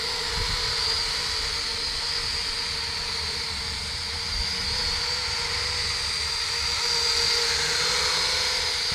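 A small kids' toy drone with little brushed motors driving geared propellers hovers nearby outdoors in a light breeze, giving a steady, high-pitched whine that holds at a constant level throughout with no speech.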